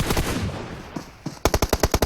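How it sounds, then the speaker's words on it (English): Rapid bursts of automatic gunfire in PUBG Mobile, first muffled and scattered, then a loud, evenly spaced string of sharp shots close by. "you've got Team Solid who will be hearing this gunfire"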